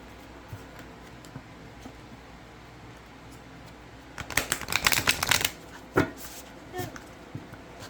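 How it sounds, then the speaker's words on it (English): A deck of oracle cards being shuffled up close, a burst of riffling and flicking about four seconds in, then a few quieter taps against a faint room hum. "So let's do a shuffle."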